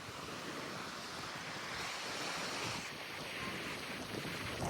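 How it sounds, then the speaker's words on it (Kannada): River waves washing and surging continuously at a picnic spot, a broad rushing roar mixed with gusty wind buffeting the microphone, no talking. "ಸೇಮ್ ಸಮುದ್ರನೇ, ಅಲೆಗಳ ಸೌಂಡ್"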